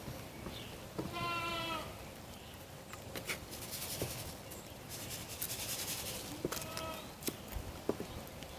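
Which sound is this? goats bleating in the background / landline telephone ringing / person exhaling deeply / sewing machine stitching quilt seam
goats bleating in the background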